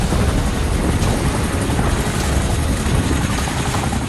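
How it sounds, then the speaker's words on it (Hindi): An Indian Air Force Chinook helicopter flies near the northern border, its dense, steady rotor and engine roar filling the whole stretch loudly and continuously with no voices. "उत्तरी बॉर्डर पर कुछ दिनों से चिनूक लगातार उड़ान भर रहा है"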